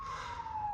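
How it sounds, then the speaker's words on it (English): An emergency vehicle siren sounds outside, a brief steady tone held at moderate loudness over low background rumble. "sorry for the sirens if you can hear that."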